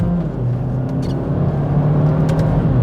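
A 2019 Hyundai Elantra GT N Line engine drones steadily in sport mode with manual shifting, a low, even hum from inside the cabin that swells slightly toward the end, with no talking.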